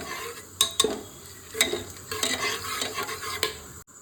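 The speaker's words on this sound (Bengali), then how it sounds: "গোটা মশলাগুলো দিয়ে দেবো ওকে ভালো করে একটু নেড়ে একটু ভেজে নেবো দশ পনেরো সেকেন্ড" Whole spices crackle and sizzle in hot oil while a spatula stirs them, giving several sharp metallic taps and scrapes against the pan over a low frying hiss.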